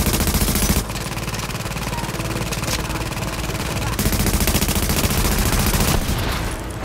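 Dense, loud automatic gunfire in the video game The Division, aimed at a deployed turret, with continuous rattling bursts that fill the whole clip.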